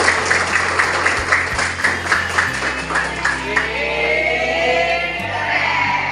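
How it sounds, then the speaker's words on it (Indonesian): Classroom of students clapping together in an enthusiastic round of applause, steady rhythmic claps close by, with a teacher's voice and some chatter mixed in. "kita beri tepuk tangan dulu yang semangat."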